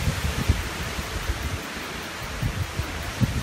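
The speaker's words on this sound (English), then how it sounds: "Here comes big gust." A strong wind gust buffets a mountainside in Colorado, a broad, rough roar with low rumbling thumps that swell and ease, loud and close, with no voices.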